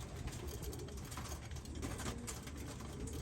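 Racing pigeons cooing in their loft before a training toss, soft low coos repeating under a steady hum of background noise, with a faint engine somewhere nearby.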